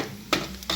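Potato fry stirred in a pan of hot oil, a soft steady sizzle with two short scraping strokes of a spoon, close and quiet.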